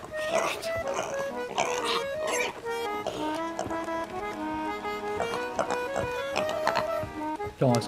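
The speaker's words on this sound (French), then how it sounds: "Ah, les cochons." Pigs oink and grunt in Sea of Thieves, repeated squeals layered over a steady, busy musical background that stays loud throughout.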